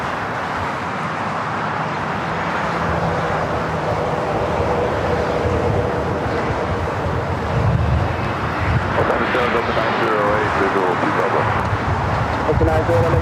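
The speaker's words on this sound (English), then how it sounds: "Of the Austrian, the 777 and the Johann Strauss special livery now pushing back." Austrian Airlines Boeing 777 in Johann Strauss special livery pushing back between Tom Bradley and Terminal 4 at LAX, a steady near engine and ground-equipment roar holding level throughout, with talk over it.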